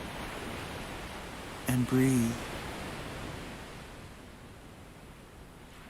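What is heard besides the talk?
ocean waves collapsing on beach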